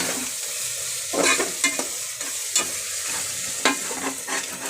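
Marinated mutton sizzles in a pan with fried onion, green chilli and ginger-garlic paste, close-up frying hiss punctuated by repeated scraping stirs at irregular intervals.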